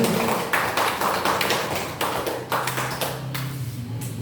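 Hands clap in a classroom session, a sparse group producing sharp, close slaps in an uneven rhythm that fades toward the end.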